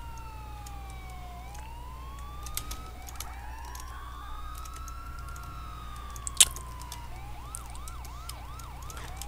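In GTA IV's Liberty City, ambulance sirens wail and sweep up and down in long glides, later switching to a fast yelping pattern, with a sharp knock midway and low engine rumble beneath.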